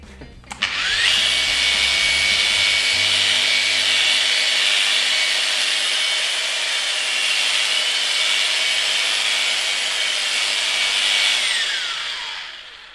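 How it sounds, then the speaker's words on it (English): A polishing pad buffs the plastic shell of a Nintendo Wii console with heavy cut polish, a steady high-pitched whir that holds for about eleven seconds before spinning down. "Cock it on the angle like that, and that way it's just that tip of the pad there, it's kind of doing the polishing"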